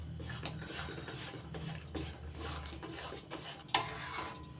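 Mango pulp mixture for mango sandesh being stirred in a pan, soft repeated scraping and light clinks of the utensil against the pan, with one sharper knock near the end.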